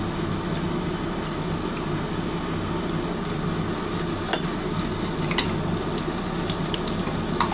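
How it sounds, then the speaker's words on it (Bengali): Battered eggplant slices in a gram flour and rice flour coating deep fry in hot oil, giving a steady, close crackling sizzle throughout, with one sharp tap partway through. "এই 2 পিস ভেজে তোমাদের দেখাচ্ছি।"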